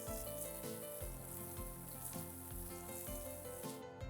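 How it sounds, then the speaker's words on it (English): Garlic, ginger and green chilies sauté in a hot pan with a steady, close sizzle. Rhythmic background music plays over it throughout. "Saute all these ingredients for a few seconds."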